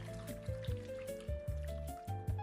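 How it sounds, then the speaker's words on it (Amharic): Water runs into a pot holding broccoli and salt, a soft trickling fill with a rising pitch, punctuated by several low knocks and thumps at an uneven rhythm, quiet and without speech. "ውሃ መጨመር።"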